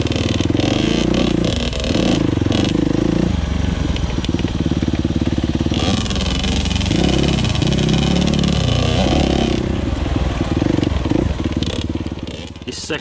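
Motocross bike tearing through a deep, clay-heavy mud section of an enduro trail, engine loud and close, revving hard and surging on and off the throttle with continuous clattering roar.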